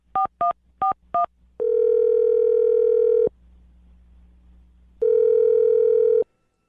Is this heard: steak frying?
no